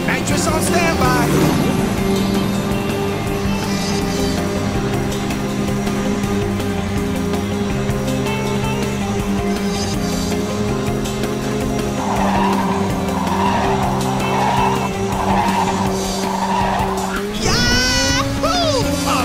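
Race cars in Ridge Racer 6 with one boosting on nitrous, a sustained engine drone and tire skid under game music and voice announcements, with a sharp rising surge near the end.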